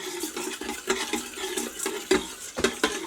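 Rice and Lipton onion soup mix being stirred inside an Instant Pot, a spoon scraping and clinking against the metal inner pot in several short, close strokes, with no talking.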